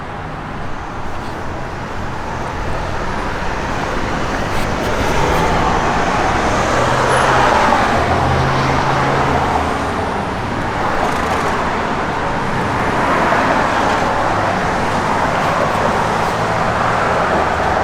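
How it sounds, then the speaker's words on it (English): Steady broadband rumble of a 1966 Pontiac GTO with a Flowmaster dual exhaust, a continuous moderately loud engine and road noise holding at an even level throughout with no speech. "It's got a good sounding Flowmaster dual exhaust system on the car."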